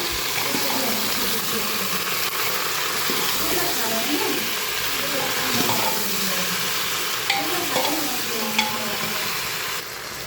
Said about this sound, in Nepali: यसलाई चाहिँ यसरी मस्तसँग चलाउने